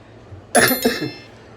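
A single harsh cough from a person with a cold, close and sudden, with a second rougher hack right after, then quiet.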